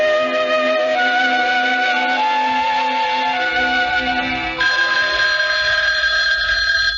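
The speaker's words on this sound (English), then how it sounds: "It's not the alarm this time, darling. It's the phone" An old-fashioned telephone bell rings continuously and loudly in a domestic setting, a steady metallic trill that fills the whole stretch with a brief break partway through.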